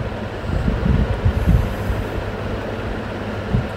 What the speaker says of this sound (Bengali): ট্রেন চলছে নিজ গতিতে,